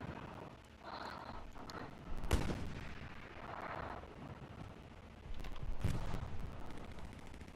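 Artillery fire in the WWII shooter Hell Let Loose: a couple of dull, distant booms rolling out of steady battlefield ambience, with no talk over them.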